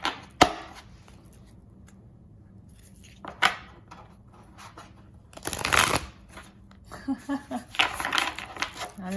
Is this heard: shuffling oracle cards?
yes